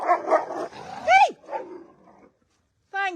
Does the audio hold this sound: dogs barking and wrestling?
yes